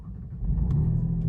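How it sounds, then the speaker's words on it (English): A 2022 Alfa Romeo Giulia Quadrifoglio with a 2.9 V6 rumbles through its exhaust, a deep, growly low-pitched drone that swells briefly and holds, close and loud with no talk. "Obviously it's got very deep growly tones when it starts up"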